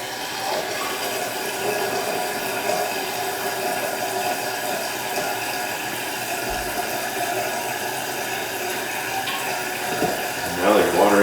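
A toilet tank refilling after a flush, a steady rushing hiss of running water near and constant, with a brief gurgle and a faint voice toward the end.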